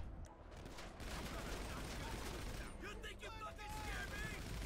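Enemy gunfire rattles in GTA 5 during a zombie apocalypse scene, a dense barrage of shots and bursts running steadily through the clip, with someone talking excitedly over it.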